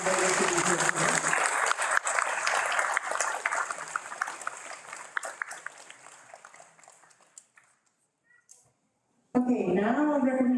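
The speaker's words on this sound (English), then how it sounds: "will you please give a round of applause to those students who were not able to be here today." A graduating class's audience at a commencement ceremony applauds loudly at first. The clapping thins and fades to near silence, and then a voice begins speaking at the end.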